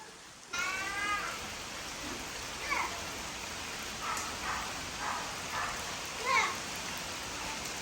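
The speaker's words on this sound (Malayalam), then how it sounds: "മഴ ഇവിടെ ഇങ്ങനെ കുറച്ച് നേരമായി ഇങ്ങനെ ചാറി നിൽക്കുന്നുണ്ട്. പിന്നെ ഇപ്പം അതേ സ്ട്രോങ് ആയി." Rain falls steadily outdoors after a drizzle turns heavy, a constant broadband hiss of drops throughout, with a few faint brief voices or animal cries over it.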